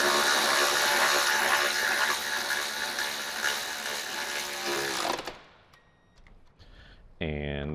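A power tool runs loudly and continuously for several seconds while tightening the rear gas tank bolts on a Harley-Davidson motorcycle, then cuts off, leaving quieter clicks and handling noises and a short burst of sound at the end.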